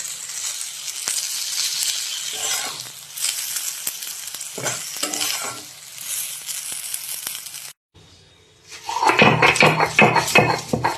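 Shrimp, salted and lightly sugared, frying in a pan for a village-style chili mash, giving a loud, dense sizzle with stirring that drops out briefly before a louder, crackling burst.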